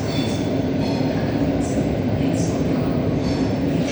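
An EIC Ślęża intercity train runs through the underground Warszawa Centralna station with a loud, continuous rumble of wheels and cars, and bursts of high hiss or squeal recur every second or so.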